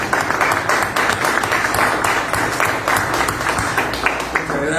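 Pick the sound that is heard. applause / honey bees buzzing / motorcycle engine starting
applause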